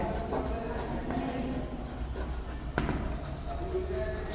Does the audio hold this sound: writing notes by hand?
yes